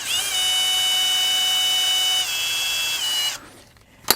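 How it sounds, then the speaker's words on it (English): A small Milwaukee cordless drill driver whines at high speed for about three seconds, pitch dropping slightly once, then cuts off, followed by a soft knock, during muffler strap replacement. "I just used a small Milwaukee drill driver set on the I accidentally moved it right there"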